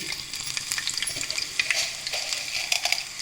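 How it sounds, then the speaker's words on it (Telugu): Garlic frying in oil in a pan for an Andhra-style cucumber chutney, a steady close sizzle with crackling pops and light stirring scrapes throughout. "పెట్టుకొని కొంచెం ఆయిల్, గార్లిక్ వేయాలి."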